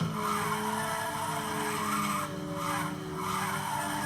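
Tires squeal in a sustained skid as a car drifts through a corner in Ridge Racer on the PSP, a steady loud screech over the engine note with no talking.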